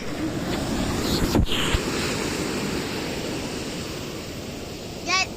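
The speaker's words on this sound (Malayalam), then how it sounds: "ദാ തിരമാല അടിച്ചു വരുന്നു" Sea waves surge and crash onto the shore in a continuous loud wash with strong wind buffeting the microphone, plus a brief sharp knock and a short high tone near the end.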